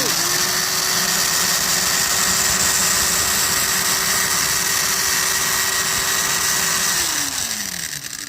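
A restored old hand drill with home-built gears being cranked, giving a steady, loud mechanical whir with a sustained gear whine that holds evenly for about seven seconds before slowing and dropping in pitch near the end.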